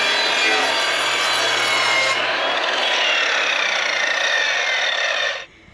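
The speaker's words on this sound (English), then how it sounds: "I'm going to take these two 8-foot pieces and I'm going to cut them in half so I get two 4-foot lengths" A saw cuts through an 8-foot wood piece for a sauna project, a loud, steady, raspy cutting roar that runs continuously for about five seconds before abruptly stopping.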